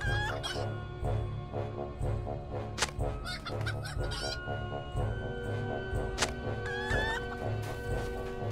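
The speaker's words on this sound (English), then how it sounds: "Poor chickens, just stealing their eggs." Chickens in the Lord of the Rings Online video game cluck repeatedly in a farm area. The steady, close clucks sit over a low looping game background, with some brief higher squawks.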